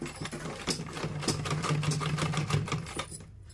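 An electric sewing machine stitches salwar fabric in a steady, fast mechanical whir with a rapid needle rhythm. It runs close and continuous for about three seconds before slowing to a stop.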